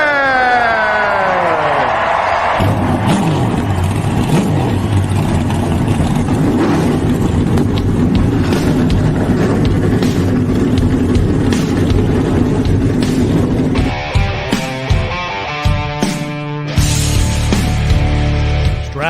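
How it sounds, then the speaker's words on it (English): NASCAR race car engines fire up with a rising whine, then roar in a loud, dense, continuous drone before settling into rough, revving idles near the end. "Driver, start your engine!"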